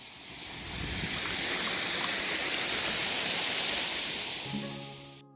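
Red Dirt Falls on Kauai, a small waterfall amid bright red earth, gives off a steady, dense rush of falling water that stays even throughout before a brief tonal sound at the end.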